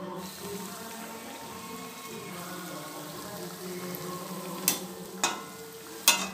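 Thekua, a Bihari sweet for Chhath Puja, frying in oil gives a faint, steady bubbling sizzle, broken near the end by a few sharp clinks of a utensil.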